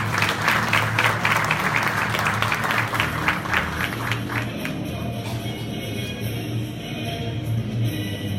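An audience at the TGC Sedat Simavi awards ceremony applauds steadily for an award recipient, dense clapping for about four seconds before fading into a softer crowd murmur.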